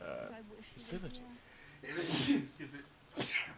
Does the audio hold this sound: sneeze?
yes